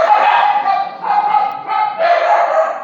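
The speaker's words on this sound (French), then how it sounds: "Excusez-nous pour le chien." A dog on a farm barks in three loud, close, sharp bursts spaced about a second apart, with no talking over it.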